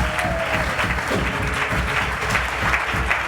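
Church congregation at an Easter conference applauding steadily, a dense wash of clapping from a large crowd that holds throughout, with faint voices mixed in.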